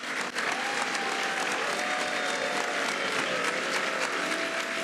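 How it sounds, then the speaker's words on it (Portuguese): Members of a European parliament applaud after a vote on a migration law change, sustained dense clapping from a large chamber, steady and loud throughout, with a faint tonal hum running underneath. "vamos ouvir o momento em que aplaudiam por uma mudança de leis lá na Europa. Ok, aplausos."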